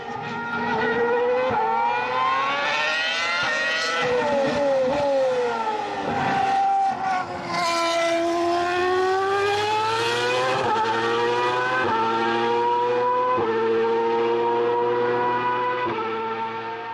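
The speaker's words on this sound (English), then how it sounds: "let's look at the engine sounds. Okay, let's start with" A high-pitched V8 Formula 1 engine revs and sweeps up and down through the gears, loud and continuous, its whine rising and falling as it accelerates.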